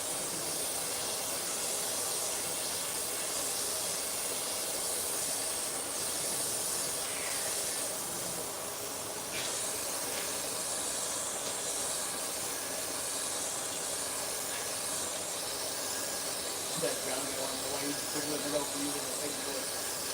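Airbrush or spray gun overspray while painting a cobalt blue commission piece, a steady broad hiss running throughout with faint background noise and no clear pauses.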